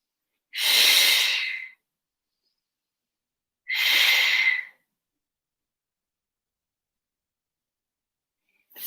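Two deep, audible breaths during a stretching exercise, each a soft airy exhale of about a second, separated by silence, with a third just beginning at the end.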